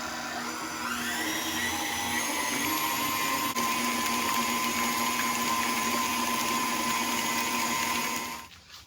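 An electric mixer blends pureed sweet potato into sweet potato pie cookie dough, a steady close whirring motor whine that holds for about eight seconds before winding down abruptly.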